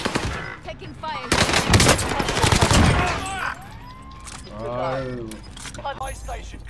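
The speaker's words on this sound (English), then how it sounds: "Taking fire." Rapid gunfire bursts from the Call of Duty Warzone video game crackle loudly in the first few seconds, followed by quieter game effects and players talking.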